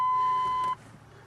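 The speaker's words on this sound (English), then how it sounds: "sorry about the annoying buzzer" A steady electronic buzzer tone drones loud and alone during a diagnostic scan on a GMC vehicle with the key on, holding unbroken for about three-quarters of a second before cutting off into quiet hum.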